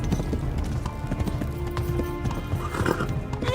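Rapid, rhythmic hoofbeats of a horse galloping in the medieval game Kingdom Come: Deliverance, close and steady throughout, with a brief whinny near the middle.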